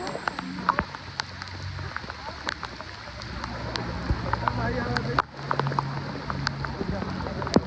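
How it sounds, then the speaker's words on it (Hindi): Rain falls steadily on a swimming pool, a dense patter of drops with sharper splashes here and there, fairly close and moderately loud, with a brief dip in level partway through. "स्विमिंग पूल और बारिश का कॉम्बिनेशन स्वर्ग भाई स्वर्ग"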